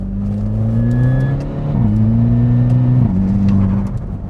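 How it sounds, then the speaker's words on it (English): A Volkswagen Scirocco with a dual-clutch transmission accelerates hard: a loud, close engine note climbs steadily and drops briefly at two quick upshifts, each marked by a short exhaust burble. No voices. "The dual-clutch transmission is responsible for that Volkswagen signature fart sound that you hear whenever you put your foot down."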